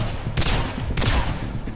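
Two loud gunshots in the video game Singularity, about half a second apart, each a sharp broadband blast with a short rumbling tail.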